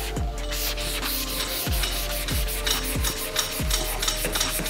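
An auto body panel is sanded by hand in steady back-and-forth rubbing strokes, close and continuous, with a rhythmic scraping texture.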